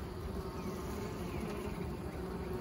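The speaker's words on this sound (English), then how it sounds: "Bees are acting nicely" Honey bees around an open long hive make a steady, even hum that fills the air without pause, with no voices.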